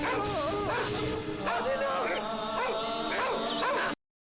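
Dogs in a Malayalam film scene yip and bark in quick, overlapping, whining bursts, loud and close and mixed with voice-like sounds, before cutting off abruptly to silence.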